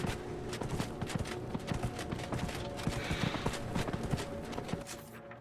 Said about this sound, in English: Let's call upon our loyal steed.